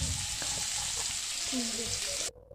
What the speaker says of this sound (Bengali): এবার কড়াইতে তেল দিয়ে একটা মাঝারি সাইজের পেঁয়াজ কুচি করে দিয়ে দেবো এর মধ্যে